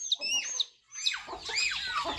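Agitated chickens cluck and squawk in short, sharp bursts while being chased, fairly close with scuffling noise and no talking.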